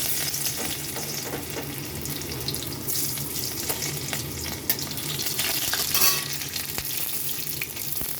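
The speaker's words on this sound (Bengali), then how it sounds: "কড়াইতে সাদা তেল গরম হয়ে গেছে। তো আমি এখানে দিয়ে দিচ্ছি রসুন কুচি" Chopped garlic fries in hot white oil in a wok with a loud, constant sizzle and crackle, and occasional stirring clinks, with no talking.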